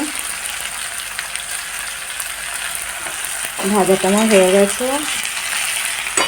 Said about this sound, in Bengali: ভাজাটা আমার হয়ে গেছে